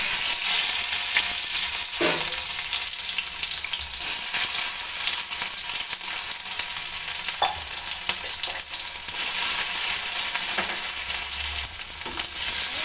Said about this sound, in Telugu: ఇప్పుడు మన ఆయిల్ వేడైంది కదా, మనం ఇప్పుడు ఆయిల్లో ఆనియన్స్ వేసుకోవాలి.